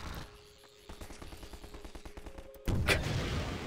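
Half-Life 2 gunfire: a quick run of sharp, rhythmic shots at moderate level, then a louder blast and crackle near the end.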